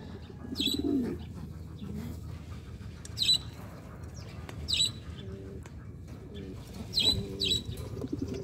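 A gift pigeon at a breeder's loft gives several soft, low cooing calls at intervals, close by, with higher chirps from other birds and light background murmur of people.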